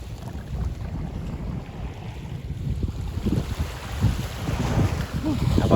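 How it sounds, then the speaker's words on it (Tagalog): Strong wind gusting at a night fishing spot by the water, a steady low rumble of wind buffeting the microphone that builds in force toward the end, with lapping water underneath and no voices. "Lakas ng hangin."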